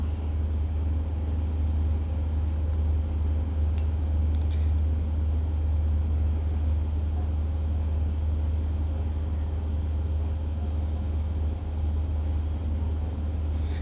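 A bus carrying four families rolls along the road to Tirumala, its engine and tyres making a constant deep, droning rumble that stays level throughout with no voices.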